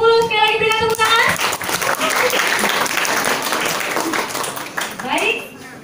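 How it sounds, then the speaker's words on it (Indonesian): An audience applauds at a school quiz semifinal on the four pillars of the MPR, sustained dense clapping and cheering that builds right after a brief announcing voice and carries on loudly to the end. "Sekali lagi berikan tepuk tangan."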